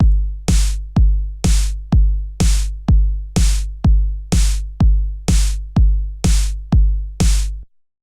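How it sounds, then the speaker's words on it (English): A programmed drum beat plays alone at a steady tempo, punchy kicks alternating with crisp snare hits for about eight seconds before stopping. "So now with those snares in place, it sounds like this."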